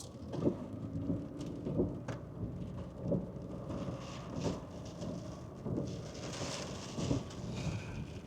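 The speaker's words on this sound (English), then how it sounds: "That's spattering on the window like it's sleet, definitely." Steady patter of sleet against a window, a constant hissing spatter with low rumbling underneath, no voices.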